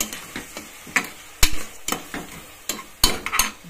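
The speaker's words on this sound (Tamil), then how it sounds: "தக்காளி எல்லாம் நல்லா வதங்கி போயிருக்கோங்க" Tomatoes sautéing in a pan, a spoon stirring with repeated sharp taps and scrapes against the metal at an uneven rhythm over a light sizzle, close and clear, with no talking.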